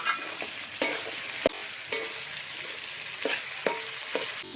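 Meat with ginger, garlic, potatoes and tomato frying in a pan, a steady loud sizzle with a few sharp scrapes and knocks from a stirring utensil, close up and without talk.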